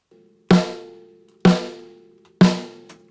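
Three sharp snare drum hits with EQ applied, evenly spaced about a second apart, each with a punchy crack and a short ringing tail, played alone.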